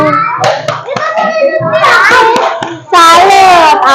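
Schoolchildren in an Indonesian classroom perform the tepuk salut clapping routine, with rhythmic group claps alternating with loud chanted children's voices and an adult speaking.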